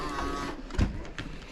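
A Bambu Lab 3D printer's AMS feeds filament with a brief mechanical whir and a single soft thump, heard close up.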